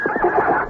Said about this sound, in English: The horse has gone wild.